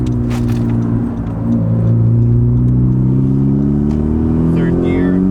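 A 2018 Honda Civic Si with an aftermarket intercooler pulls through the gears with a steady engine drone that rises in pitch as it accelerates, heard from inside the cabin with the windows open and traffic around.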